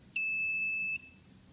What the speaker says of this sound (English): lower than 5 meter, it will trigger the alarm